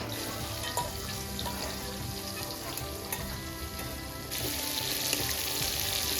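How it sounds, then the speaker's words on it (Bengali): Onions and chillies sizzle steadily in hilsa fish oil in a pan, a dense continuous crackle close by that grows a little louder partway through, with no talking. "পেঁয়াজগুলো আর মরিচে ভাজা হয়ে গেছে।"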